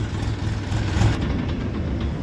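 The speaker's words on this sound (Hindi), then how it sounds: "ट्रैक्टर चल पड़े हैं, तुरंत के फौरन ही ट्रैक्टर चल पड़े हैं।" Tractors pulling away at the Daurala sugar mill in the morning, giving a loud, steady low engine rumble that carries on close by without pause.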